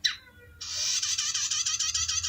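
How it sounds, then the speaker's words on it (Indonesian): A prinia, a mountain prinia kept as a songbird, gives a brief high call, then a sustained, bright, rapidly trilling song close by that carries on to the end. "Perenjak isian aki tekor guys."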